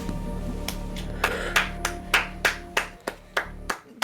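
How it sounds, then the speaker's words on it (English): One person claps about a dozen times with lotion-slick hands, sharp close claps in an uneven rhythm over a faint background hum. "Everyone give him a round of applause."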